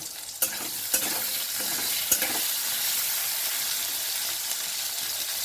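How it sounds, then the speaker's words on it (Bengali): Eggplant seasoned with salt and turmeric fries in a pan, a loud, steady, close sizzle with a few sharp clicks of stirring near the start and no voices. "নুন দেব আর একটু হলুদ দেব বেগুনে, দিয়ে এটাকেও ভাজবো"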